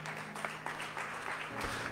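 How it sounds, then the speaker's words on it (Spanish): Congregation clapping hands during a church service, a steady wash of applause filling the room for the full two seconds, with faint voices underneath. "dale palmas al Señor"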